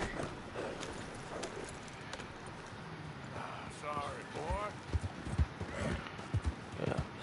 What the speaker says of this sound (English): And go on, horse.